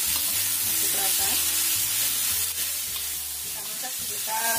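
Seasoned food stir-frying in a pan over fairly high heat, a steady loud sizzle with a constant hiss, under a looping background music track and no voices.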